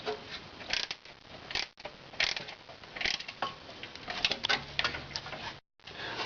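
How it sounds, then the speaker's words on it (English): Tightening an alternator adjusting bolt while levering with a piece of wood, quiet close clicking and ticking of a ratchet wrench in irregular bursts with faint metallic knocks. "I'll place some pressure on the wood and tighten up the adjusting bolt."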